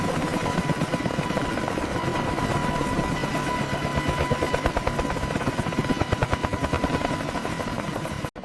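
A Boeing AH-64 Apache helicopter is heard up close, its rotor producing a loud, steady rhythmic thumping over a broad turbine roar, continuous until an abrupt cutoff at the end.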